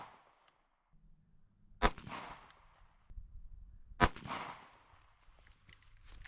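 Two sharp, loud gunshots from a Ruger RXM pistol, about two seconds apart, each with a short echoing tail over a low background hum.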